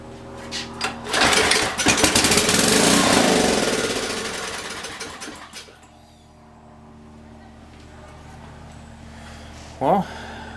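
A 10 HP Briggs & Stratton small engine fires up after carburetor work, running loud and rough for several seconds, then cutting out to a quiet idle-like lull before a brief sharp noise near the end.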